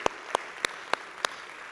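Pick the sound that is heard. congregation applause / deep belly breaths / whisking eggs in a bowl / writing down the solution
congregation applause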